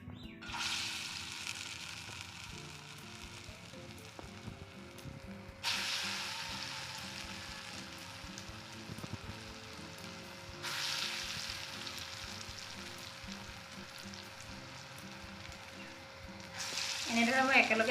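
Lentil pitha cakes frying in hot oil in a wok, a steady broadband sizzle that runs throughout and swells louder as fresh batter goes in, with no voices over it.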